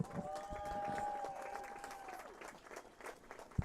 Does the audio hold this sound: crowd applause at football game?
yes